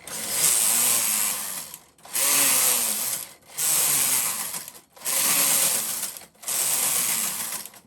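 Brother KH-950i knitting machine with its carriage swept back and forth across rows, five loud rattling, clacking passes, each about a second and a half long, separated by short pauses, close and steady.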